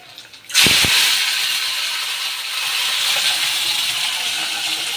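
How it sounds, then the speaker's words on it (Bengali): Eggs hit a hot pan for light frying, with a sudden loud hiss after a brief quiet start that settles into a steady, close sizzle lasting several seconds, with no talk. "এবার একটু ডিমগুলো ভাজবো হালকা হালকা করে"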